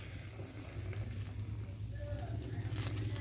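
Pork grilling over heat for a local Thai dish, giving a soft, steady sizzle and crackle throughout, fairly quiet and without talking.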